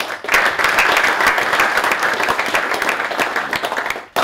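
Steady applause from an AFL club's players and staff greets Brodie Grundy's introduction to the senior leadership group, dense and continuous for about four seconds before cutting off abruptly.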